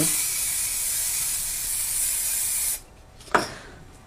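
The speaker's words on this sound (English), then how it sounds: "you can use a spray like this, which is just a frosting spray, and you can spray it on" A steady, close aerosol frosting spray hisses onto window glass for almost three seconds, stops, then one short puff follows.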